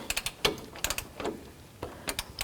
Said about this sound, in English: I'm going to use my pry bar and a short 1/2-inch socket, and 20 foot-pounds is what we're going to tighten this up to